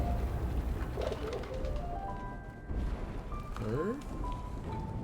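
A pigeon coos in short rising calls against constant background rain, partly under a person talking.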